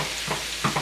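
Colossal Cajun shrimp cooking in a hot pan give off a close, steady sizzle, with a couple of short stirring scrapes.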